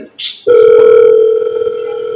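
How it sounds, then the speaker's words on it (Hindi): A phone rings at a Bollywood event: a brief noisy burst, then a loud, sustained electronic ringtone that holds steady and slowly fades slightly, with no clear talking over it. "सर आपका फोन आ गया"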